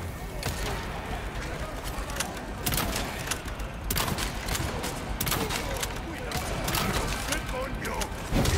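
Bolt thrower shots against enemies in Resident Evil 4 land in a dense, chaotic barrage of thuds and impacts, layered with mechanical clatter and overlapping voices.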